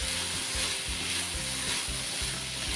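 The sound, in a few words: stirring mixed vegetables with homemade spices in a pan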